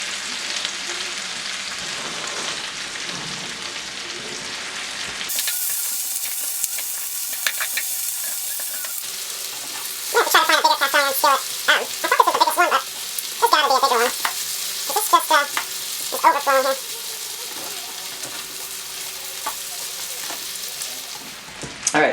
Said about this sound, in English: We're going to add the sausage and onions back to it. Get this nice and incorporated.